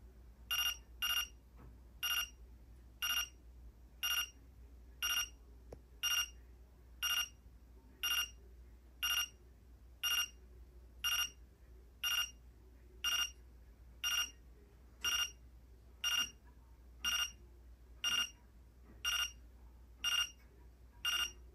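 A Reizen talking atomic keychain clock alarm goes off, sounding a steady series of short high electronic beep bursts repeated about every second, evenly spaced over a low background hum with no voices.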